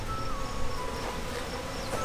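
A dense swarm of honeybees humming at the entrance of a hive, a steady close drone with individual bees whining past, no voices.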